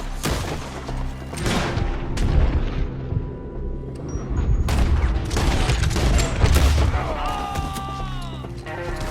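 Gunfire and explosive booms in a Red Dead Redemption 2 firefight, dense bursts of shots and heavy impacts piling up continuously, loud and close, with brief crashes and a rising whine near the end.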